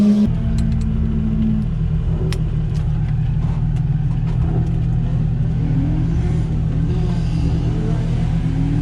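A loud Nissan 350Z drift car engine rumbles steadily up close at a drift event, its pitch rising and falling as it revs, with small clicks and clatter over the drone.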